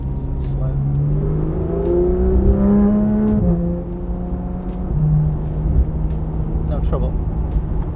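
A Porsche 992 GT3 RS engine revs up hard to overtake another car, its pitch climbing steadily before easing after a gear change, then pulling again, loud and close from inside the cabin.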